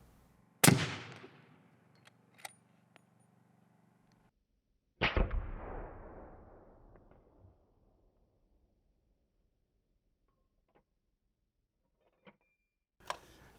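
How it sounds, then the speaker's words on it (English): A single loud 300 Win Mag rifle shot firing a 200 grain Sierra MatchKing X bullet, with a sharp crack and a long decaying echo across open ground. A smaller earlier report and faint distant pops follow. "We did the same cardboard test and took the shot."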